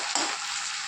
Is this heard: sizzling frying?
yes